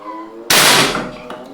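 High-pressure air rifle charged to 5500 psi, a single loud sharp shot and impact on wood that bursts suddenly and decays over about a second, with faint talk before it.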